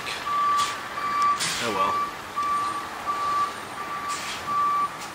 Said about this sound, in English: Tree trimming truck.